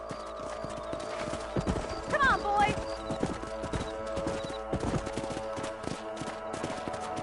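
Horses trotting in Red Dead Redemption, a steady clip-clop of hooves close by with a brief whinny, under a man's speech and faint distant gunfire.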